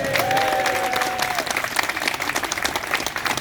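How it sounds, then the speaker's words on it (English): A crowd at a charity fundraiser event breaks into loud, dense applause and cheering for the Queen's Hotel, with a whistle early on, sustained clapping throughout. "let's have a big cheer for Queen's"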